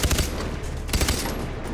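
Rapid bursts of video game gunfire ring out in Far Cry 3 as shots are fired at wild boars in the jungle, two quick volleys of several shots each, close and sharp.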